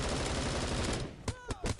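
Rapid automatic gunfire rattles loudly in the shooter game Bullet Force, a dense burst followed by several separate sharp shots.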